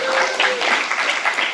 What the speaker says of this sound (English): And applause are due anytime.